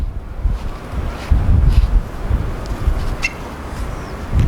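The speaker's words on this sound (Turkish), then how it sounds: "Çok rüzgar." Strong wind on a 16-storey building top, where a giant kite is flown, buffets the microphone with a loud, rumbling roar that surges and eases unsteadily throughout.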